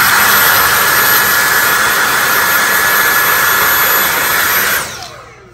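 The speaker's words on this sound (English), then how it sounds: "Vacuum." A loud, steady motorized whoosh of a vacuum cleaner running close by, which winds down and stops near the end.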